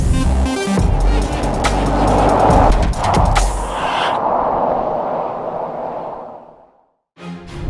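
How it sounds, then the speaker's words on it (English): A Bentley Bentayga Diesel SUV accelerates hard, a loud deep engine roar that builds and then fades away into near silence over several seconds. "The way this vehicle picks up speed, the only word is awesome."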